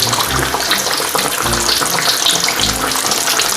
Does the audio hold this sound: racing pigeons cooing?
no